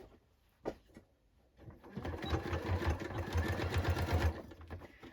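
A sewing machine stitches a seam on a denim jacket, starting after a brief knock and then running as a steady rapid rattling burst for about two seconds before stopping.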